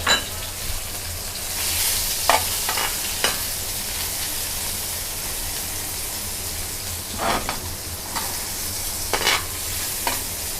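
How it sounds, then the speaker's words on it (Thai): Garlic and red chili stir-frying in a hot pan: a continuous loud sizzle, punctuated by several sharp scrapes and spatula knocks in small clusters, up close and without speech. "ใส่กระเทียมกับพริกแดงกินดานะคะ ไม่ได้ผัดพริก"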